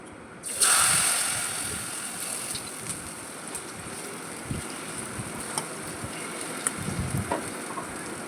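Taro leaves coated in a flour and rice-flour batter fry in hot oil, with a sharp sizzle bursting in at the start and a steady, close crackle continuing, punctuated by soft clinks of a spoon.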